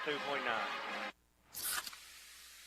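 Pepsi Zero Sugar cola gives off a brief, sharp fizzing hiss that bursts up right after a stretch of speech and a short pause, then fades quickly.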